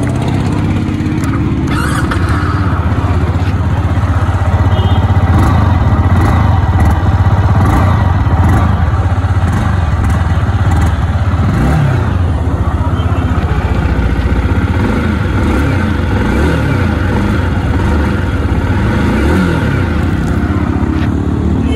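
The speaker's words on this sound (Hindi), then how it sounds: "तो एक बार आपको इसका एग्जॉस्ट साउंड सुना देते हैं" A 2024 Yamaha R15 V4 motorcycle running close by, its exhaust giving a loud continuous engine drone with rising and falling revs throughout, no talk over it.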